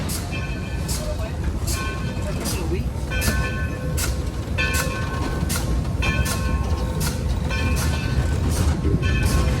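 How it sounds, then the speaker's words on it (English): The Yosemite Mountain Sugar Pine Railroad train rolls along steadily, its continuous loud rumble and rattle joined by repeated metallic squeals and clanks, with a voice talking over it. "Welcome aboard the Yosemite Mountain Sugar Pine Railroad"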